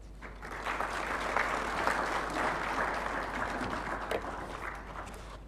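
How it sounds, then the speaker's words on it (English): An audience applauds after the opening speech of a TVET symposium at a Kigali skills conference, a sustained wash of many hands clapping in a large hall, even and moderately loud throughout. "Another warm round of applause."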